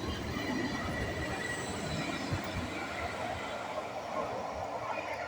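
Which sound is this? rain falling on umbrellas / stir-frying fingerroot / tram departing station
tram departing station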